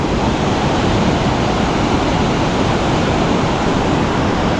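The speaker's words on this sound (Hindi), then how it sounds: "पानी एकदम साफ, वहाँ से वो झरना है।" A mountain waterfall and clear stream on the Hemkund Sahib trek, a loud, unbroken rush of falling water close by, with no voices.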